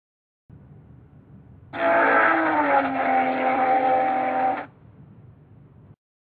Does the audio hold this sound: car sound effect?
yes